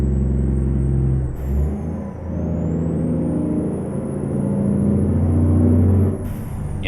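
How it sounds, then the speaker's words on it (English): International 9800 Cabover truck engine in American Truck Simulator, a loud, steady diesel drone that dips briefly and swells again, with a rising whine over it and no talking. "I like this engine. It has a good sound to it."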